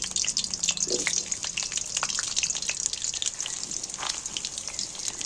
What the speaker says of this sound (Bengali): এইবার আমি আলুগুলো তেলের মধ্যে তুলে দিচ্ছি